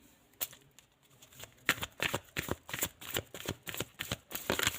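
A deck of cards is shuffled close up: a few soft riffles, then a rapid run of crisp flicking snaps for several seconds, with no talk.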